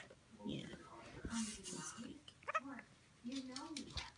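A cat gives a few soft, short meows at close range. Quiet whispered talk surrounds the calls and nearly matches them in loudness.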